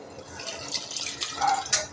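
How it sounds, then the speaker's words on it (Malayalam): Tamarind water is poured into a pot of sambar, a short splashy trickle with a few drips and a brighter splash near the end. "അമ്മ ഈ സാമ്പാറിനോട്ട് സ്വല്പം പുളിവെള്ളം ഒഴിക്കുക കേട്ടോ"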